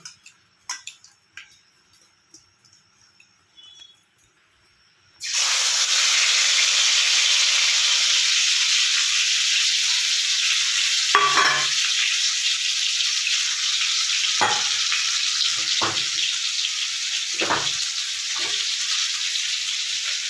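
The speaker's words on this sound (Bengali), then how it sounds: "কড়ায় তেল প্রায় গরম হয়ে গিয়েছে আর মশলাটা আমি সমস্তটা মেখে মেখে নিয়ে একসাথে কষতে মানে কষে নেব" Spice paste with salt and turmeric hits hot oil in a wok with a sudden loud sizzle after a few quiet clinks, then a sustained hiss broken by occasional utensil taps and scrapes.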